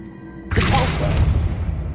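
A spell impact in the video game Hogwarts Legacy lands as a sudden loud blast. A burst of crashing, whooshing noise follows and sustains to the end over a low rumble, with no talking.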